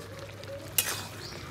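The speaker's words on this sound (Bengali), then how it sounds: "এবার আমি মোরলা মাছটা, ভেজে রাখা মোরলা মাছটা দিয়ে দেব।" Fried morala fish drops into a tomato curry in a pan, a single soft splash and clink over a faint, low simmering sizzle.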